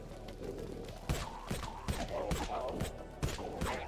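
Suppressed pistol fire in the Dead Frontier video game, a series of muffled thumping shots in an uneven rhythm, about seven in four seconds, over a low steady background hum with no talking.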